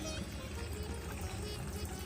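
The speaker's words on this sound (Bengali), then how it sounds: "পানি দিয়ে বেগুনগুলোকে ভালো করে ধুয়ে নিতে হবে" Water pours and splashes steadily for a couple of seconds over eggplants being washed, a continuous rushing trickle close by with no voices.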